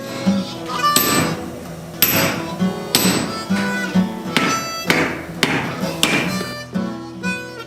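A set hammer strikes axe steel about once per second, each sharp clang followed by a short metallic ring, repeated roughly eight times up close.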